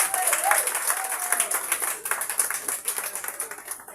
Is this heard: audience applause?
yes